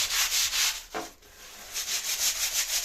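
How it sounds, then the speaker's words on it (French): Shower tile grout joints scrubbed hard with a brush, a loud, close rhythmic rasping in quick back-and-forth strokes, briefly pausing near the middle before resuming, with no speech. "je fais en partie ce que je peux faire, je le fais avec cette brosse"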